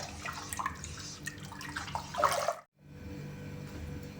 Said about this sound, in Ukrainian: заливаємо розсіл в банку